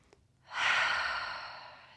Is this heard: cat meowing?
no